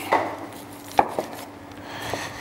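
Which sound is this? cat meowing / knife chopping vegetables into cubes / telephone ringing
knife chopping vegetables into cubes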